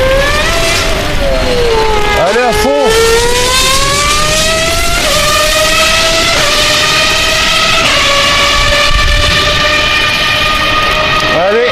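Cars rushing past on a motorway in Ile-de-France beside a mountain bike ride, a steady loud roar with passing engine tones rising and falling, one close pass standing out, while someone talks briefly over it.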